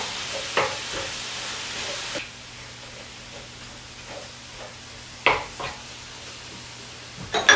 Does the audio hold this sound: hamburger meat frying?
yes